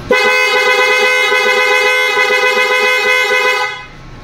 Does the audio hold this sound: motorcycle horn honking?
yes